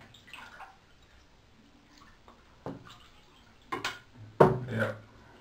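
A large 20-centimeter fishing lure with a 3mm Lexan lip moves through water in a bathtub, making faint sloshes and splashes that grow into a few louder close splashes near the end.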